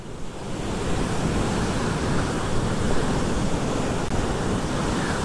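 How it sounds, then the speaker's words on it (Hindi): Water from a river sprays and splashes in a dense, steady roar that fills the scene loudly and close by, a continuous broadband rush with no voices, heard on a bike ride in Nepal. "देखो भैया क्या सीन है, क्या पानी का छींटे आ रहा है यहाँ से।"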